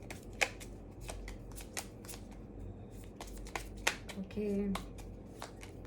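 Tarot cards shuffled for a Gemini reading: several sharp riffling bursts and soft card slaps spread through the stretch, close and fairly quiet, with a voice speaking briefly over them.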